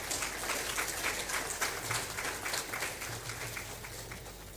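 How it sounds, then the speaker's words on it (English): An audience at a public lecture applauds in honour of the Supreme Court, steady, moderately faint clapping that continues throughout, with no voice over it. "And I think they deserve an applause."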